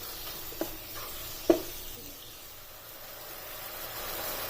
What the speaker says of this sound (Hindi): अब इस चिकन को इसमें वाइट होने तक इसी तरह कुक होने देना है।